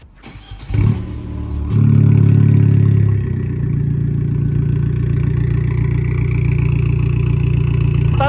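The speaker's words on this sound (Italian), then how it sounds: "sentiamo questa 165 cavalli al minimo quanti decibel fa." An Abarth 500 Yamaha Factory Racing with a 165 hp engine and a loud aftermarket exhaust starts with a sharp crank and blip, then settles into a deep, steady, burbling idle close up.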